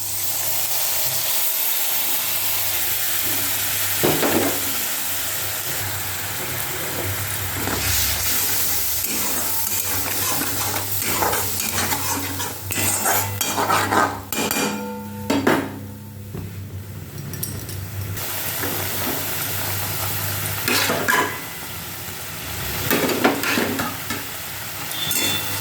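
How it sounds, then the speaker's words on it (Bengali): Spice paste fries in a pan for a fish curry, giving a loud, continuous sizzle and hiss with repeated scraping, clinking strokes of stirring throughout. "মশলাটা একটু ভাজা হয়ে গেলে আমি কিন্তু এখানে নারকেল বাটাটা দিয়ে দেবো।"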